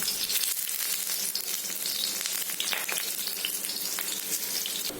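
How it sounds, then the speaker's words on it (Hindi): Taro leaf and lentil pakoras fry in hot oil, a bright, crackling sizzle that stays steady and close for several seconds with no talking. "1-2 करके डालती हूँ तेल में और अच्छी तरह से चारों तरफ ब्राउन करके इसे फ्राई कर लेती हूँ"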